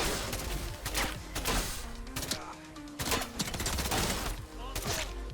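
Video game gunfire in Atomfall, a steady busy stream of overlapping shots and impacts with a low rumbling bed underneath, mixed with other game sounds throughout.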